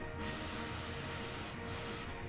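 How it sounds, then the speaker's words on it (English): CRC cleaner sprays onto a disassembled EVGA Kingpin 2080 Ti graphics card in two close hissing blasts, a long one followed by a shorter one after a brief gap. "To be honest, we probably should just spray all the paste off too."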